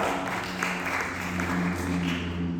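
Congregation applause filling a church during an Indonesian sermon, a dense continuous wash of clapping with a low musical drone underneath.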